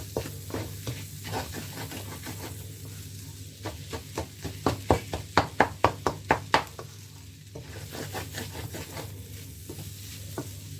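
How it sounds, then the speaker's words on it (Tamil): Spiced masala with dried nethili fish for fried rice is sautéed on a low flame. A quiet continuous sizzle runs under a series of sharp spatula taps and scrapes that bunch into a rapid rhythmic run midway, then thin out. No talking. "இப்படியே கொஞ்சம் லோ ஃப்ளேமில் வச்சு நீங்கள் வதக்கி கொள்ளுங்க"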